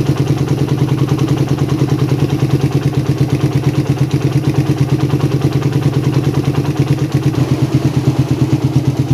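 A motorcycle engine fitted with a PWK carburetor runs close and loud with a steady rhythmic chug, its revs easing downward as the throttle is backed off.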